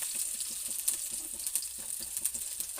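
Garlic cloves frying in oil with turmeric and asafoetida, a quiet, close, continuous high sizzle dotted with small rapid crackles and pops, with no voices.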